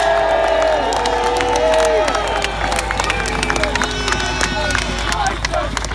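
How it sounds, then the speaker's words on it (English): Protest crowd outside Parliament at a Brexit rally cheering and whooping loudly, a dense sustained roar with scattered claps and shouts running the whole time. "I want to give them all a big cheer."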